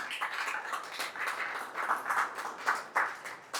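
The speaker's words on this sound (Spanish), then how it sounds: "Dale fuerte ese aplauso al Señor, fuerte, aleluya" A church congregation claps along in praise, a dense, steady wash of many hands that swells in bursts, fairly loud and continuous with no clear voices on top.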